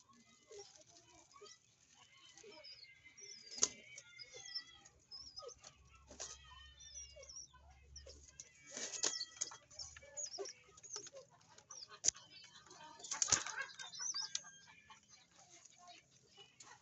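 Racing pigeons feeding in a loft, with soft pecking patter, scattered grain taps, fluttering and occasional faint coos and clucks close by, fairly quiet throughout.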